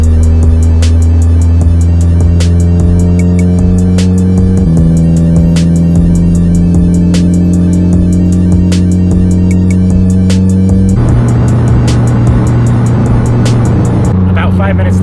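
Mitsubishi Evo with a rebuilt engine, newly tuned fuel pressure and a rotary switch, on its first drive: a loud, close, steady engine drone that shifts pitch through gear changes, with a continuous intake and exhaust rumble.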